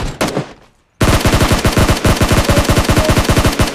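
Automatic gunfire in a battle royale video game: a brief burst, a short pause, then a loud sustained rapid stream of close shots.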